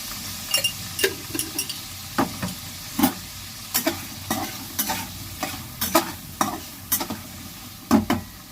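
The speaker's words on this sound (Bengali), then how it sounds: "নেড়ে চেড়ে অল্প লবণ দেব হালকা।" A curry with soaked chickpeas fries in a pan as a spoon stirs it, giving a steady close sizzle broken by regular sharp scraping strokes about once a second, with no talking.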